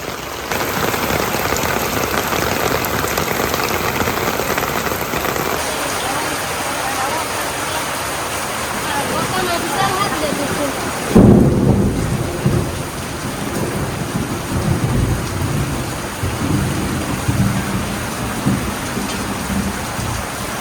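A heavy downpour with thunder in rural Bangladesh: rain roars steadily while a deep rumble of thunder swells partway through and lingers under the continuing hiss, loud and close.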